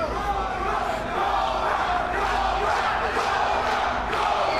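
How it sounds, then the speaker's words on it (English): Crowd at a kickboxing fight roaring and urging a fighter forward, a dense steady wall of cheering and shouts throughout, with faint voices mixed in. "The crowd willing the American forward here."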